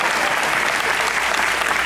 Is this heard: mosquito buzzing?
no